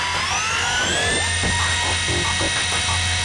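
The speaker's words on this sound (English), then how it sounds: "Still no movement, then I'll drill out a bit." Power drill boring out seized steel pins on a steel ship under restoration, a steady close whine with a rising pitch and a low motor hum throughout.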